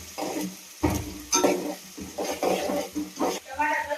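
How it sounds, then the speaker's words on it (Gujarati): Dried onion and spices are stirred in a pan with a spoon, making repeated scraping strokes in an uneven rhythm over a soft background sizzle, close and moderately loud. "સૂકી ડુંગળી નાખ્યા પછી એને હલાવી દેવાની, મિક્સ કરી દેવાનું બધું।"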